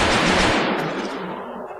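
Video game gunfire in X-COM Enemy Unknown, a loud burst of rapid automatic shots that fades into a decaying echo over a couple of seconds.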